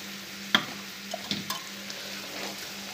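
Paneer, malai and milk stirred in a pan until dry, soft scraping strokes and a faint sizzle with a couple of sharper clinks of the spoon against the pan, close and quiet, over a low steady hum.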